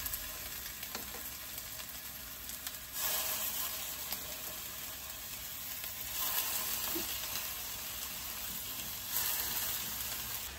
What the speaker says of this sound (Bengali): কাঠি কাবাবগুলো ভাজা হয়ে গেছে